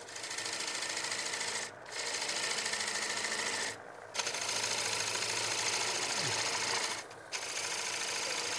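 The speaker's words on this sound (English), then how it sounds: "I'm going to use my 3/8 flute, half inch shaft bowl gouge, fingernail grind, fresh edge, and I'm going to shear scrape" A fresh-edged bowl gouge with a 3/8 flute, half-inch shaft and fingernail grind shear-scraping a spinning wooden calabash bowl on a lathe: a loud, steady whirring rasp, broken by three short pauses.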